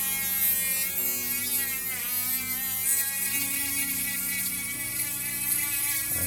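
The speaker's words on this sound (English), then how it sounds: "Try to bore out the hole a bit and just check it." A small rotary tool whirs at a high, steady pitch while boring out a hole in wood for a homemade fine-detail paint brush, its tone dipping slightly as it bites and then recovering, heard close and alone.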